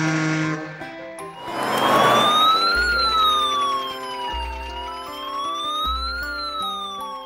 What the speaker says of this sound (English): In the tooting of my siren,